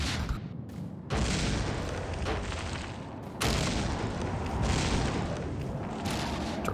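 Heavy booming explosions in a naval video game, torpedoes striking a ship in two loud, sustained blasts with rumbling debris, no voices.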